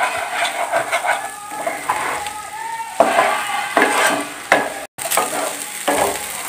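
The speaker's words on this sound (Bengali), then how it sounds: "এগুলোকে ভালোভাবে বারবার নাড়তে হবে, নাহলে মিচি লেগে যাওয়ার সম্ভাবনা থাকতে পারে।" Rice for basanti polao fries in a pan over a lowered gas flame, sizzling steadily while a utensil stirs and scrapes through it in repeated strokes.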